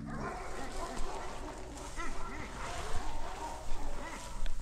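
Chihuahuas bark and yip in quick, high bursts at close range over a steady background hum.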